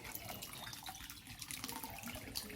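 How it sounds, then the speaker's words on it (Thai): Water running and splashing steadily while stones for an aquarium are rinsed clean, a close, continuous tap-like wash with small drips and trickles and no voices. "เอาไปล้างน้ำมาสะอาด"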